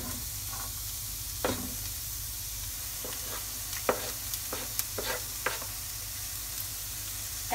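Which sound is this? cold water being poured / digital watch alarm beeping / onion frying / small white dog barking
onion frying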